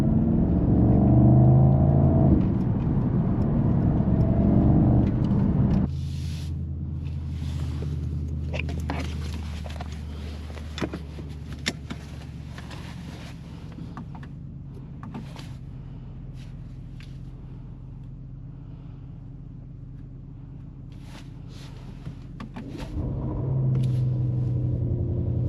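A 2025 Mercedes-AMG SL 63 S V8 exhaust rumbles loudly at the start, drops to a quieter low drone with some clicks and rustles while driving, then swells back into a throaty roar at the end.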